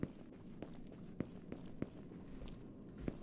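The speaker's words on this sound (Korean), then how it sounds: "구두 소리 난다" Footsteps from high-heeled shoes click at a steady walking pace, each sharp tap distinct against a faint, quiet background.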